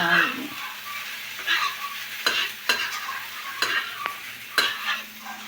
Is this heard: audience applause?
no